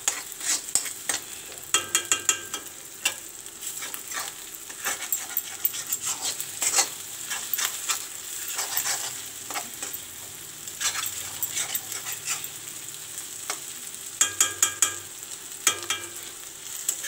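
Egg and vegetables frying and being stirred in a pan, with soft sizzling under repeated sharp scraping clacks of a utensil, some bursts quick and clustered, no voices.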